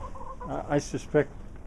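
A farmyard hen clucks nearby in a few short, throaty bursts, with brief pauses between them and quiet surroundings.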